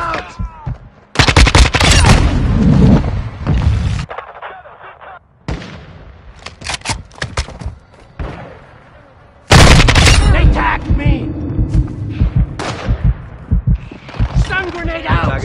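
Video game firefight on the Herrick Road map: a grenade blast booms amid bursts of rapid gunfire, loud and close, broken by short lulls and overlapping with shouted voices and in-game callouts.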